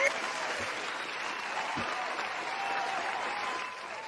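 Applause from an audience, a fairly quiet, steady patter of many hands that carries on evenly and fades slightly near the end.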